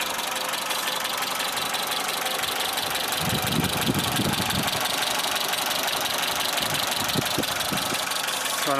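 Close, steady idle from a warm Suzuki SJ410 whose valves have never been adjusted, a fast light valve tick riding on the engine drone, with a few low thumps or handling knocks partway through.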